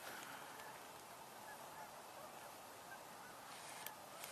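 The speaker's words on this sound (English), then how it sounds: "So, lots of Canada geese." Faint, distant honking of a flock of Canada geese at an outdoor wetland, a few soft calls scattered over a steady, noisy background of wind and ambient hiss.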